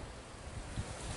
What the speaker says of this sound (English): Keep still, it's so windy